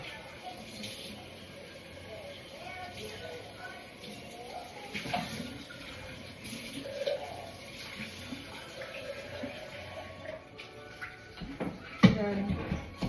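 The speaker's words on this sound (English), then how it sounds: "I will be rinsing this out" A container rinsed under a running kitchen tap while making a smoothie: a soft, steady hiss of flowing water with faint splashes and handling clatter, ending in a sharper knock, with a voice murmuring in the background.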